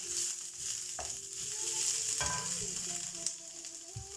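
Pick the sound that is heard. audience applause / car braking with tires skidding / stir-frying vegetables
stir-frying vegetables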